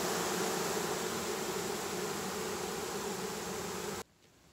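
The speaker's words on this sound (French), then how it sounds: "on a à peu près toutes les abeilles sur le dessus des cadres qui éventent les phéromones de celles-ci pour attirer les autres" Honeybees on top of hive frames fan their wings in a dense, continuous buzzing hum, close and steady, until it cuts off abruptly near the end.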